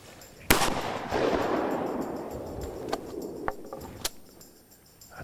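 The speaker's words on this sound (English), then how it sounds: "That's good that Simon's getting some shooting" A sharp, loud shotgun blast goes off during a duck hunt, its echo rolling away over open ground, followed by several fainter, more distant shots spaced a second or so apart.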